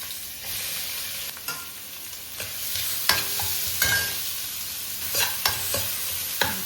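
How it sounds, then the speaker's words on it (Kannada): Chopped onions frying in a pan with asafoetida and curry leaves for avarekai kurma, a steady close sizzle broken by repeated scraping and clattering stirs of a spoon against the pan, with no talk. "ಇಂಗು, ಕರಿಬೇವು, ಆಮೇಲೆ ಚಿಕ್ಕದಾಗಿ ಹೆಚ್ಚಿಟ್ಕೊಂಡ ಈರುಳ್ಳಿ ಹಾಕ್ಬೇಕು."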